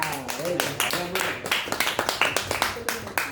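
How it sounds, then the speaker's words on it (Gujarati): During a training session for event anchors, an audience claps for itself. A voice talks at the start, then a run of sharp, fairly close claps follows in an uneven rhythm. "એકવાર તાળી પાડો"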